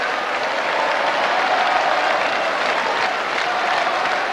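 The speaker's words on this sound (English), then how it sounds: "that camera can't be still because of the crowd in the stand jumping up and down" Loud, sustained roar and applause from a football crowd jumping in the stand at the 1997 Scottish Cup Final between Kilmarnock and Falkirk at Ibrox, a dense continuous wall of cheering.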